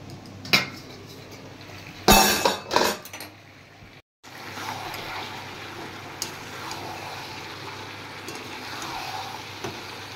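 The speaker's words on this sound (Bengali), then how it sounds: "ভাতটাও নামিয়ে দেব।" A cooked pot of rice is lifted off a home kitchen stove, with a few loud metallic clanks and scrapes of the pot, then a quieter stretch of kitchen background.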